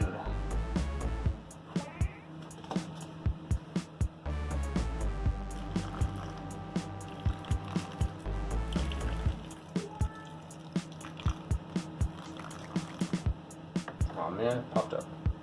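Water pours onto seedlings in a small germination area of a container garden, trickling and splashing in irregular bursts close by, with a voice talking over it.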